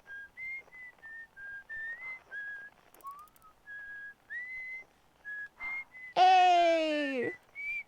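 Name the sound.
character whistling in the video game Outer Wilds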